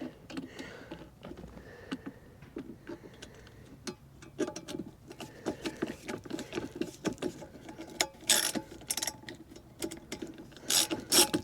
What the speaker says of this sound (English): Love me some ratcheting screwdrivers, or in this case a hex driver using RBRT bits by Mac